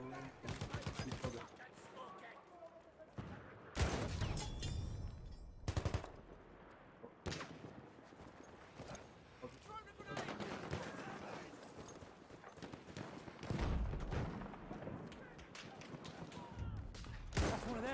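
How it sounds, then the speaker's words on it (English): Machine gun fire in the World War I shooter Battlefield 1: repeated loud, rattling bursts mixed with other battlefield gunshots. They stop and start through the scene, with someone talking over the fighting. "Enemy machine gun!"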